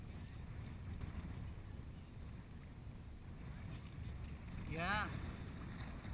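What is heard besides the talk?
wind blowing outdoors near the water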